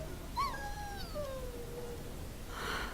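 A dog in the video game Dragon Age gives a thin, high whimper that slides downward and trails off, faint over a steady background hiss, with a brief breathy rustle near the end.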